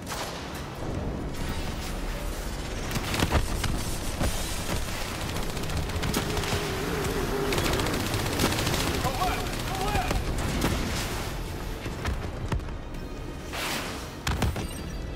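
Dense, continuous turret machine-gun fire and chaotic combat noise in Black Ops III, with sharp crackling bursts and impacts sustained at steady loudness throughout.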